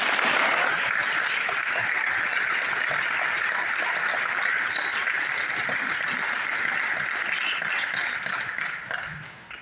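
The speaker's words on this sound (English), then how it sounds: "Give them a big round of applause" A school awards audience claps for scholarship recipients in a loud, dense, continuous round of applause from many hands. It holds steady for most of the time, then fades out at the end.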